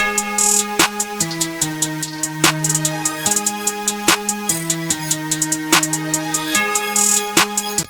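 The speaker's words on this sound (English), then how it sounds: "Then we got this hi-hat pattern right here." A busy, rapid hi-hat pattern ticks over a looping beat with bass notes and periodic clap-snare hits, loud and steady with no talking.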